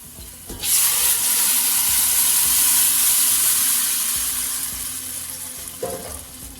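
Tomato pulp hits a pan of thickened onions and sizzles loudly at once, a broad steady hiss that slowly fades, with a clank of a utensil near the end.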